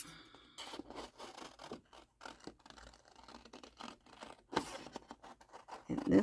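Scissors cutting through a fabric pocket piece, with quiet, irregular snips and scratchy rubbing of cloth that come and go, growing louder near the end.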